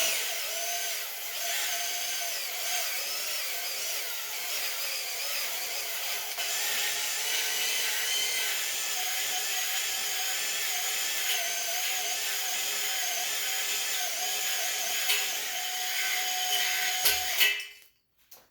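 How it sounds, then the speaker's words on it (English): A drill-driven hone spins inside an engine cylinder bore of a Honda B18B1, a steady high whirring grind running for about seventeen seconds, close and loud, then cutting off abruptly at the end. "you want to turn the drill on to about medium speed and go up and down motion"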